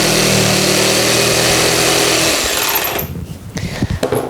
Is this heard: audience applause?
no